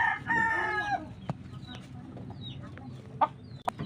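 Chickens being taken to market sound close by, with a rooster-like crowing call at the start, then scattered short clucks and squawks over faint background noise and a murmuring voice.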